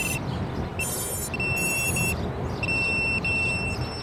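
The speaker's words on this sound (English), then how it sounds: "If the battery has too much juice, then it'll alarm." A Beta FPV quadcopter running an overcharged 450mAh 2S battery sounds its alarm: repeated high-pitched electronic beeps in short bursts and longer tones, loud and close over a steady background rumble.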